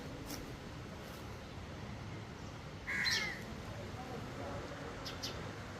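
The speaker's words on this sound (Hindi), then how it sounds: "कौओं के दर्शन कीजिए, जो कि आजकल दिखते नहीं हैं" Crow cawing outdoors at a riverside ashram along the Narmada, a single short caw around the middle, moderately close, over steady outdoor background noise without talk.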